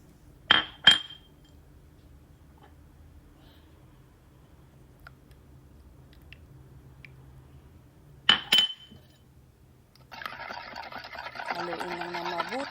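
Puto cheese batter ingredients are stirred in a bowl: two pairs of sharp clinks of a utensil against the bowl, then a sustained scraping swirl of mixing near the end, close and otherwise quiet.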